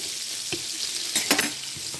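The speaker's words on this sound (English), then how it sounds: "And make sure this is frying." Butter sizzling and crackling steadily in a hot pan for searing fish, with a few louder pops and spatters near the end.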